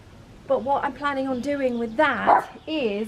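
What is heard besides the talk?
dog barking in the garden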